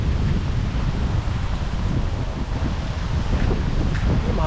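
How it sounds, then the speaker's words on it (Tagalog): Strong wind buffets the microphone on a walk through Frank Faubert Park in Scarborough, a loud, continuous low rumble with gusty swells throughout. "Mahangin oh."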